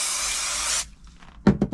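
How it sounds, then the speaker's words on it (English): Spray adhesive hisses from a can onto foil in a single steady burst that stops abruptly, followed by a few near, sharp handling clicks while insulating a micro camper. "that is made super easy again by using spray adhesive"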